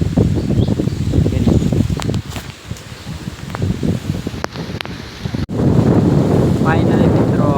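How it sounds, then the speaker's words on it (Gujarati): Strong wind buffets the microphone outdoors on a farm where mangoes are being harvested, with a steady roar and rustling leaves that briefly ease, then surge back louder after a sharp knock. "પવન ફૂલ છે"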